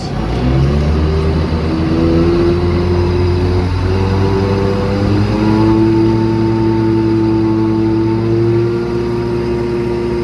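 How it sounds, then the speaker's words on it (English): New Holland tractor engine revving up loud and close, pitch climbing in stepped rises with strong harmonic tones, holding high then easing briefly before revving again across ten seconds. "Give it a little gas."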